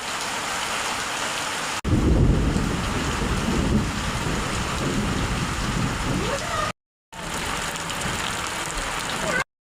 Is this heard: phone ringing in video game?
no